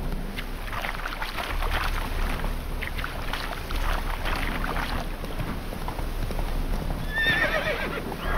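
Horse hooves clip-clop at a gallop with a whinny near the end, all from the Witcher 3 video game, under steady wind and ambient noise with no talking.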